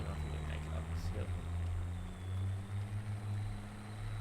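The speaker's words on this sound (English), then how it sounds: "his buggy sounds like a hot rod" A loud buggy engine in the Spintires off-road game drones steadily throughout, a deep low rumble that swells and eases as the throttle changes, with faint talk underneath.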